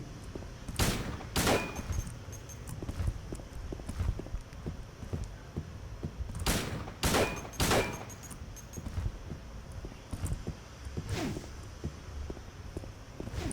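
Pistol gunfire in the video game Silent Hill 2: a few sharp, loud shots in two separate bursts, near and punchy, standing out over a low, steady ambient hum.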